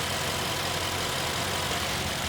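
Mercedes-AMG S63 Coupé, 2020, with a handcrafted 4.0-liter bi-turbo V8, idling with the hood open: a constant close rumble with a broad, even roar and no revving or voices.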